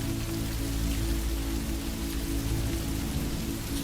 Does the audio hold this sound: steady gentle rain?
yes